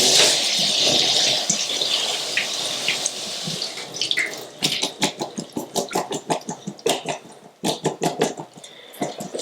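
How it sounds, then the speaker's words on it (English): Water runs from a kitchen tap over cherry tomatoes being rinsed, a steady hissing gush at first that breaks into choppy splashing bursts as the tomatoes are moved under the stream, close and fairly loud. "Now let's add cherry tomatoes. I am going to rinse these"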